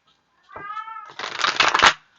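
A pet cat meows with a drawn-out harmonic call, followed by a louder, rougher, noisier vocal burst, heard up close in a quiet room with no talk over it.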